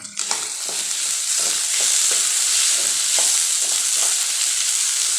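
A steady, loud sizzle of frying in a pan of sautéed tomato and onion as a handful of cashew nuts goes in, with repeated stirring scrapes and utensil taps over the continuous hiss for paneer butter masala.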